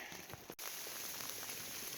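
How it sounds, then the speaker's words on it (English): Rain pattering on a hiker's rain gear on the Appalachian Trail, a close, steady hiss broken by one brief sharp rustle or tap early on, then continuing evenly without speech. "Rain comes down pretty hard, then it slows down."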